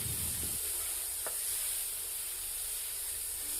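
Chopped onions frying in oil with garlic paste and tempering spices for a cauliflower roast, giving a steady soft sizzle with one brief stir near the start, faint and continuous throughout.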